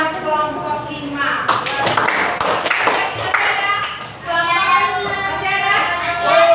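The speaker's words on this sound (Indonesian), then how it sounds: "tepuk tangan buat kelompok 5" Students in a classroom clap for a group, a brief burst of hand claps and thumps mixed with children's voices and chatter, fairly close, with talk continuing afterward.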